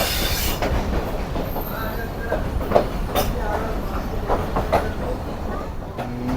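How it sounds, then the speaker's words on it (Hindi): The Shah Latif Express approaches Mirpur Khas station, giving a steady, loud rolling rumble with scattered wheel clacks and faint squeals as it moves through the town. A voice talks over it. "मीरपुर ख़ास शहर में दाखिल हो चुके हैं और स्टेशन की तरफ अप्रोच बना रही है शाह लतीफ़ एक्सप्रेस"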